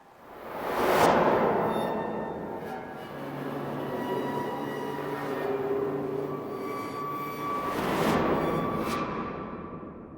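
Corrugated metal percussion samples played in reverse with added effects swell up into a dark, ringing metallic drone. Two rising surges peak near the start and the end, separated by a sustained humming wash with no talking.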